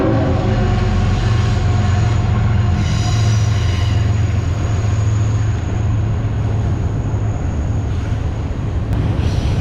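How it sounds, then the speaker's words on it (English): Freight train rolling through Pittsburgh near downtown on a riverside trail between Oakland and the South Side, a loud steady rumble of wheels and cars with a sustained high squeal, continuous and close throughout. "We got a train coming up through here."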